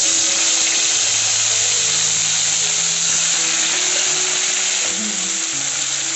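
Onion paste frying in hot oil in a wok, a loud, steady, dense sizzle throughout with small pops and no talking.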